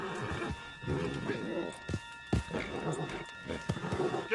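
Horse neighs and clip-clopping hooves in the Red Dead Redemption 2 video game ring out with sharp thuds, alongside nearby speech and gameplay noise.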